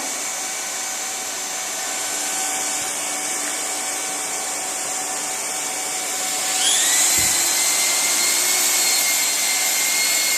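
A plastic extrusion welder runs with a steady blower-like hiss and whine during an extrusion weld on a split boot, holding level throughout and rising slightly in pitch and loudness partway through, with no voices.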